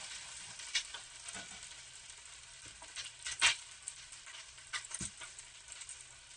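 Peppers and onions fry in oil in a pan with a constant bright sizzle and crackle. Occasional soft stirring bumps and pops rise from it, close up.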